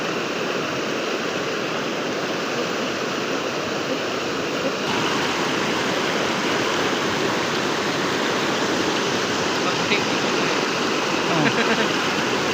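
Broadband roar of a waterfall at Tat waterfall in Ban Wiang Chai, steady and close throughout, with a faint voice briefly audible near the end.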